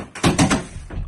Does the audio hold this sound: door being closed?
yes